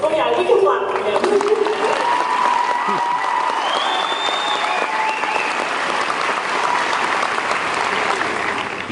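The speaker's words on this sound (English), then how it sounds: "we can clap for him" A high school graduation audience breaks into sustained applause for a student, dense clapping filling the hall at steady loudness, with a voice briefly audible over it at the start.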